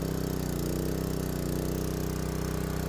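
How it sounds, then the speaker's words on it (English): A Honda GX160 petrol engine on a pressure washer runs steadily at a constant idle, a loud, even mechanical drone with a rapid regular firing rhythm throughout. "The engine started and sounds like it's running very well."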